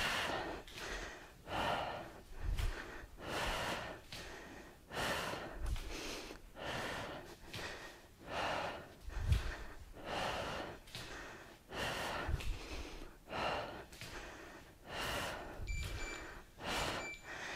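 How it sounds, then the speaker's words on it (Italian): Heavy rhythmic breathing during a glute workout, a steady series of loud, close exhale-inhale cycles repeating roughly every second, with occasional sharper snorting gasps and no speech over it. "Respiro."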